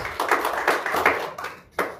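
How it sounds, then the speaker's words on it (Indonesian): Applause for Jesus in a church gathering, a short burst of clapping and tapping that pulses in waves, briefly dips and then swells again near the close. "Berikan tepuk tangan buat Tuhan Yesus."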